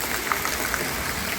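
A cloudburst's heavy downpour makes a dense hiss of falling water, steady and close with a few small spatters.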